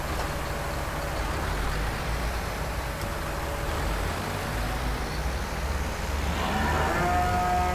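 Cattle mooing in Farming Simulator 19 on an Irish farm map, a single low moo rising near the end over a steady engine-like drone of farm machinery.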